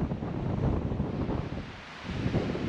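Strong wind buffets the microphone on an Arizona mountainside in a continuous low roar with gusty swells, loud and close, with no other sounds standing out.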